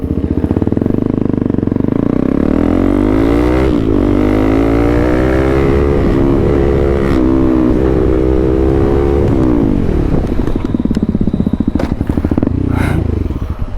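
Several motorcycles fitted with full-system aftermarket exhausts rev loudly on a group ride, engines rising and falling in long sweeping pulls close by, one swelling whine climbing then dropping, with a brief shout near the end.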